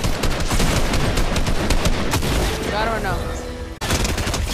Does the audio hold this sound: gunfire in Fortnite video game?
yes